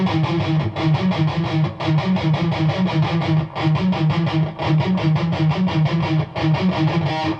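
A fast, chugging palm-muted electric guitar riff plays alone, tight rhythmic bursts repeating steadily with brief gaps, close and loud.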